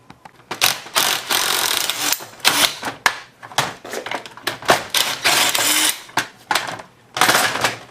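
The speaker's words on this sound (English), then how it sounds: "Now I'll take those large bolts out the rest of the way." A ratchet wrench spins out the large bolts of a Delco-Moraine four-piston brake caliper during a rebuild, giving loud, close bursts of rapid clicking separated by short pauses.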